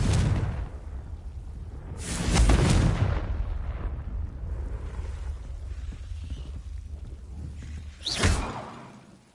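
Confringo blasting curse explosions in Hogwarts Legacy: sharp, loud spell blasts with a whooshing burst, two prominent ones a few seconds apart, over a low rumbling game background.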